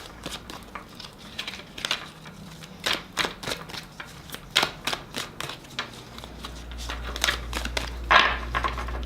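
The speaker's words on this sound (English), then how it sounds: "One more shuffle." Tarot cards riffled and shuffled in rapid, uneven bursts of soft papery slaps, close by, with a low hum rising in the background toward the end.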